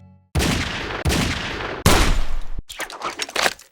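Gunshots in the shooting wager mini-game of The Oregon Trail: three loud, sharp reports spaced under a second apart, followed by a rapid cluster of quicker, fainter shots.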